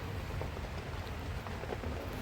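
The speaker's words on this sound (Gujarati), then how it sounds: "અહીંયા અમદાવાદમાં ફૂલ વરસાદ છે" Heavy rain falling in Ahmedabad, a dense, steady wash of drops that fills the short stretch evenly, with no voices.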